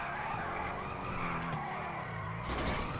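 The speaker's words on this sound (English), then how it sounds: "I haven't drifted this car in so long." Tires squealing as a car drifts in a racing video game, a continuous skid with wavering pitch and engine drone underneath, fairly quiet and steady throughout.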